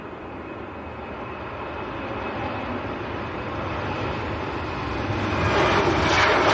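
A TUI passenger jet begins its takeoff roll at a windy Leeds Bradford Airport bound for Parma, a broad, even roar of jet engines and wind that grows steadily louder toward the end.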